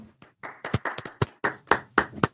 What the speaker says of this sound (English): I think we got to give ourselves a round of applause.